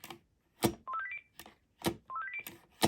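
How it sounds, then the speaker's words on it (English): A Panasonic KX-PRS120 cordless handset drops into its charging base with a few clicks, then sounds a rising stepped chime; the clicks and the ascending tone sequence happen twice, close and clear. "This being a premium design phone, it has the rising charge tone."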